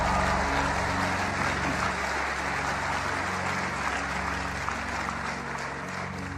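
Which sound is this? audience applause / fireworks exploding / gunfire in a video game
audience applause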